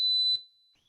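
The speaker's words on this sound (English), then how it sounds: "alarm is going off." A loud, steady high-pitched electronic alarm beep sounds for about a third of a second, then stops, leaving a quiet room with a faint tone lingering.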